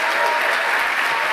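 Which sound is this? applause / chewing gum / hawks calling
applause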